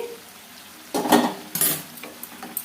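Boiled potatoes stirred into a tomato curry in a pot, with a spoon scraping and clinking against the metal in a couple of quick, close strokes amid soft background noise.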